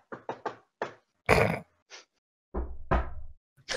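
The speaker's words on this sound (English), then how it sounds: "I'll knock on the wall." Several quick, sharp knocks rap on a wall in close succession, followed by a few scattered duller thumps and rustles.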